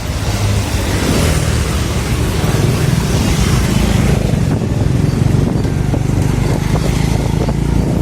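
A 2002 Honda Legenda motorcycle being ridden with a passenger aboard, its small engine buzzing steadily and loud up close, mixed with road and wind noise, no voices.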